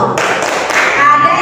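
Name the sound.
rhythmic 'Tepuk Sukses' group clapping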